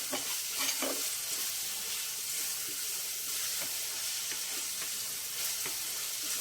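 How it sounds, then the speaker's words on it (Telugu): Ginger garlic paste fries with onions, green chillies and curry leaves for a prawn and greens curry, a dense steady sizzle close by with soft spoon scrapes stirring at intervals, no voices. "అల్లం వెల్లుల్లి చక్కగా ఉల్లిపాయ ఇవన్నీ వేగిపోయాయండి"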